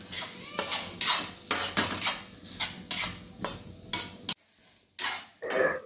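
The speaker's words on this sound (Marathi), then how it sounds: "कढईमध्ये थोडंसं तूप घालून घेतलं आणि हा खोबऱ्याचा किस चांगला भाजून घेतला" Grated coconut roasting in ghee in a kadhai, stirred with a spoon in steady scraping strokes that clatter against the metal, with a soft sizzle, a brief pause, then more stirring.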